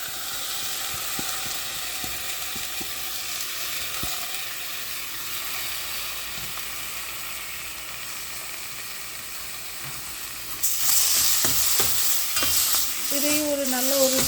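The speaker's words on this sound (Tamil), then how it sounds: "இதையும் ஒரு நல்ல ஒரு ஸ்டிர் கொடுத்துருங்க." Tomatoes sizzle steadily in a frying pan for rasam while a spoon stirs them with scraping clicks, and the frying hiss grows louder near the end.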